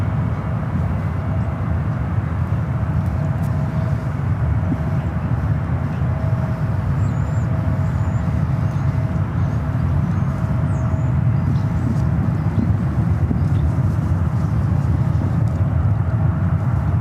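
An EVA Air airliner taxis at San Francisco airport, a steady loud engine rumble and hum that holds without pause, with faint high chirps above it.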